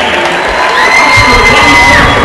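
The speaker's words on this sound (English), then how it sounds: "one more final round of applause for the 2013" A loud gym crowd at a boys' basketball senior night in the Oxford Gymnasium cheers, whoops and claps in a dense, sustained roar that swells slightly toward the end.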